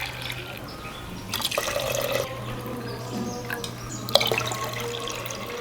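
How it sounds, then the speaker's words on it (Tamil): Water poured into a pot on a kitchen counter while making Tirunelveli halwa, heard as a running, splashing pour with a few drips and bursts over a steady low hum, with no talking. "அதுக்காக நம்ம 3 கப் தண்ணி சேர்த்துறோம்."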